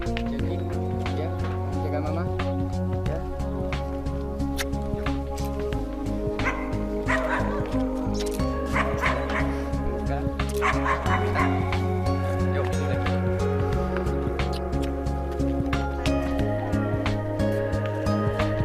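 A dog yips, barks and whimpers repeatedly before a flight, while a steady low mechanical hum and music-like tones run underneath throughout.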